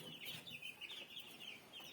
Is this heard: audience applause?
no